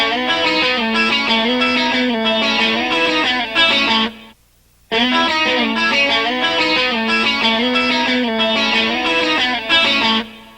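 Clean electric guitar with a little chorus plays an intro lick, a steady melodic line with ringing sustained notes, broken by a brief silence near the middle, loud and alone.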